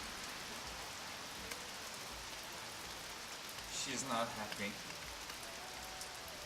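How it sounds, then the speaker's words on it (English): Hail and heavy rain fall in a steady, dense hiss during a May storm outdoors, with a brief voice speaking over it partway through. "Look at that hailstorm."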